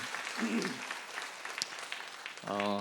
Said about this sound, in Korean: 우리 영광 받으신 하나님께 한 번 더 감사와 영광의 박수 올려드리겠습니다